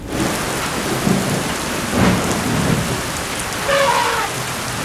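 Brief seasonal rains arriving in the Serengeti between December and March: steady, dense rainfall hisses throughout while low rumbles of thunder swell and fade, one stronger roll near the middle, with no voices.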